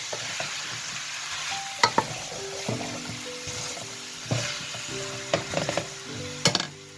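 Four garlic cloves and chopped onion stirred in a hot pan, with gentle sizzling and a series of utensil scrapes and knocks against the metal, close by with no voices.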